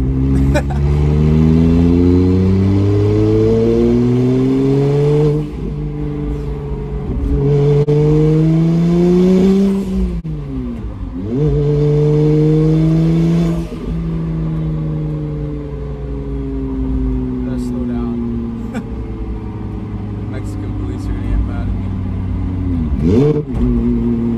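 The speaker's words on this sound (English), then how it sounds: "I'm literally driving over snow right now, getting sideways." A single-turbo BMW 335i sliding sideways over snow, its engine loud and close, revving up and down through repeated surges and gear changes, with a voice talking over it.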